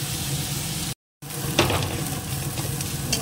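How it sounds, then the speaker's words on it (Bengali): Onions frying until browned in a pan, a steady close sizzle with a short cut of silence near the start and a brief clatter of stirring midway. "পেঁয়াজটা একদম লাল করে ভাজা হয়ে গেছে"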